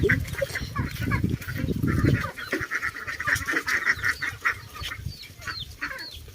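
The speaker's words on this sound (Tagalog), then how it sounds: "magpapakain ho tayo ng pato o pakainti. Pato." Busy honking and quacking of ducks, a chorus of calls repeating close by over a low rumble of shuffling and noise.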